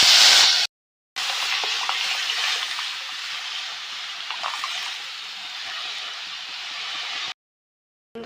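Cooked dal is poured into hot tempered spices in a pan, producing a steady rushing, hissing pour that lasts several seconds close to the microphone, with brief sharp cuts to silence near the start and end.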